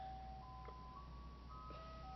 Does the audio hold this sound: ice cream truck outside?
yes